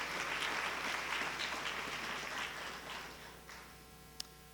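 Audience at a National History Day awards ceremony clapping for finalist schools, a soft, diffuse spread of applause that fades toward the end, with a brief sharp knock near the close.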